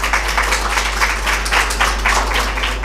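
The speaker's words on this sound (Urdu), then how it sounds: "تالیاں بجائیں پہلے تو ان کے لیے." An audience at a literature festival session claps together, a steady wash of applause rising and falling in small waves for a few seconds.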